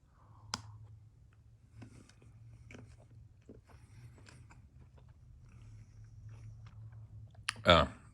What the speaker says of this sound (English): Take a quick bite. Please excuse my horrible mouth noises.